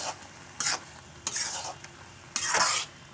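Grated carrot frying in a pan for egg and carrot halwa, stirred in three bursts of loud scraping and sizzling against a quieter continuous fry, close up with no talk.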